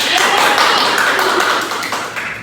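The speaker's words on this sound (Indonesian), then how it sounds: "Beri tepuk tangan." A primary school class claps their hands together, a dense, steady burst of applause lasting a couple of seconds before tapering slightly.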